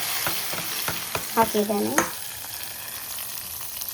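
Mustard seeds, urad dal, garlic and red chili tempering in hot oil, with a crackling sizzle under a few stirring clinks and a brief spoken word, then fading quieter.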